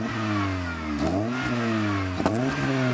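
A Mitsubishi Eclipse engine, just serviced, revving in two sharp blips over a steady idle, close and loud, with no talking.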